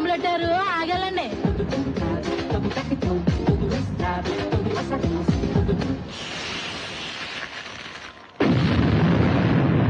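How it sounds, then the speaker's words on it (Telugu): Bombs explode in the hills as a film sound effect, a dense roaring blast with rumbling debris after speech and music, then a sudden loud second detonation that fills the end. "బాబు కొండలకు బాంబులు పెట్టారు"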